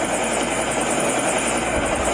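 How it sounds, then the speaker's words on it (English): A stealth helicopter in the mobile game Call of Duty, played on a Huawei MatePad T 10S tablet, gives off a loud, steady rotor and engine drone that holds unbroken throughout. "Stealth chopper inbound."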